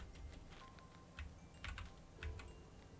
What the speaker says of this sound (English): I tried to like mask my keyboard sounds, because I know not everybody's really into that sound of stuff